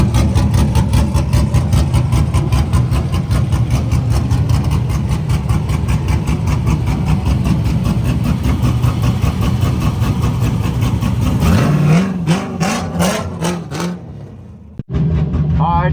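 A Corvette drift car sits with its engine running at a steady, loud idle for about twelve seconds, then the note changes and sputters briefly before a short cut.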